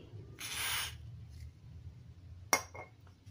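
A brief hiss of lubricant spray, about half a second long, is aimed at a stuck electronic part, followed a moment later by a sharp small metallic clink in a quiet room.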